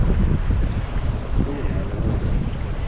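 Wind rushes steadily across the microphone while sailing on open water, a continuous low blustery roar with no breaks.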